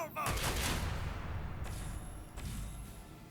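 A loud gunfire salvo from Warhammer 40k: Rogue Trader opens with a sharp burst and trails off into rumbling decay, followed by a couple of softer impacts.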